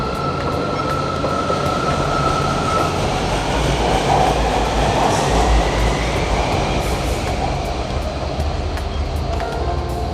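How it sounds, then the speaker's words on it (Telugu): A metro train rolls through a station in Malaysia, a loud, continuous rumble with faint wheel clatter and squeal, close by for the whole stretch. "మనం వెళ్ళాల్సిన ట్రైన్ అదే"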